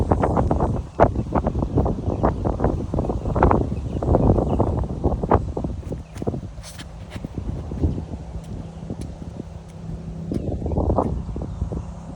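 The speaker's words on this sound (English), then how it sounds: "it's really strong wind here" Strong wind buffets the microphone outdoors in a park, a loud, gusty roar rising and falling throughout with a few sharper thumps, easing slightly near the end before gusting up again.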